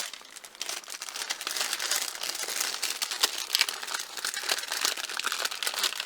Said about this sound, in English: carefully remove the greaseproof paper.